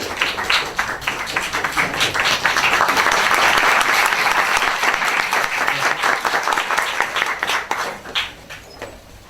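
A seminar audience gives a big round of applause to welcome a speaker, with dense, steady clapping that holds for several seconds and then thins out toward the end.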